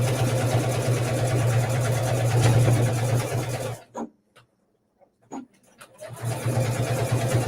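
A home sewing machine stitching fabric for a travel bag runs loud and steady, stops abruptly for a couple of seconds with a few small clicks, then whirs back up.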